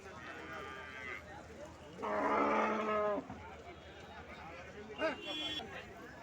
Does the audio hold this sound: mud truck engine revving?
no